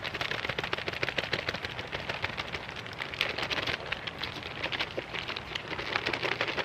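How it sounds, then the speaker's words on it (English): A sealed drink mix bag with water inside is shaken hard and fast, giving a steady, dense sloshing and rattling that runs without a break from start to finish, close up and fairly loud, with no talking. "Shake for 60 seconds."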